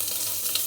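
Panch phoron spices hit hot oil in a pressure cooker and give a brief, even, close sizzling hiss with no talking.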